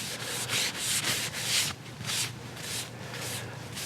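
A cloth rubs aniline dye onto a turned wood bowl sanded to 400 grit, making steady rhythmic scrubbing swishes in repeated strokes, close and clear with no talking.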